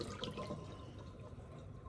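Tap water runs steadily over raw meat in a kitchen sink, a close, continuous splashing rush at low volume.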